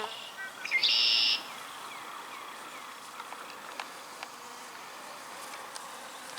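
Honeybees buzzing around a newly moved hive, an outdoor mix of faint droning wings and occasional close passes, with a short louder buzz near the start and light bird calls in the background.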